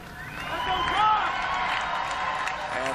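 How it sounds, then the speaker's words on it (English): Home soccer fans in a stadium cheering on their team while trailing a goal early in the match, a sustained roar of many voices with rising shouts and whistles, crowd noise throughout and some individual voices standing out. "And the fans cheering on their home team, trying to give their support as they're down 1-0 in the 18th minute"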